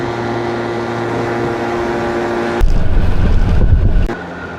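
City street traffic in Perugia, Italy, with a steady hum of vehicles that swells into a louder, closer rumble of a passing car before easing back down.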